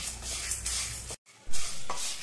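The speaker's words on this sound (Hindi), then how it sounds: "आप सुन सकते हैं इसमें से खनकने की आवाज आ रही है।" Sambar masala spices are dry-roasted in a pan over a low flame, with light crackling and the scrape of stirring. The sound is soft and close, with one brief pause.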